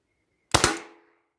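A single loud shot from an HDR 50 revolver firing bolts, a sharp close crack with a brief double punch that rings and decays over about half a second, with quiet surroundings before it.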